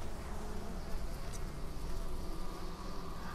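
A dense, steady swarm buzz from an insect hive in Middle-earth: Shadow of Mordor, loud and close, droning continuously with no break.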